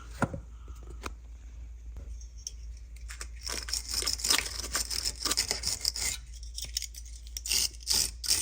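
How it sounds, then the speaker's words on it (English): Wire brush scrubbing the bolt threads on a Volvo front ball joint, close rasping strokes that start sparse and turn into dense bursts of scratching over a low hum. "Use a wire brush on the threads that you can see here"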